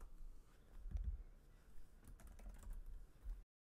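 Keys tapped on a computer keyboard, a short run of soft, close clicks over quiet room tone, ending in near silence.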